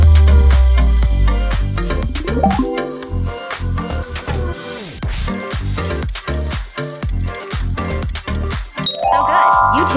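YouTube's logo jingle arrives amid a busy, loud stretch of rapid percussive hits and sweeping tones, ending in a bright rising chime flourish, with no voices heard.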